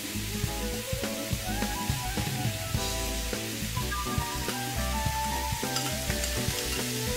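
Chive flowers tossed in a wok with sauce, chilli and a splash of water, giving a loud continuous sizzle broken by frequent clanking spatula strokes against the metal, close and busy with no talk.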